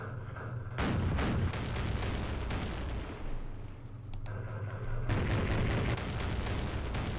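Artillery fire aimed at an armed junk boat in a Vietnam War strategy game set in the Mekong, a dense rumbling barrage of booms and gunfire that is loud and continuous, with a brief lull before the firing swells again.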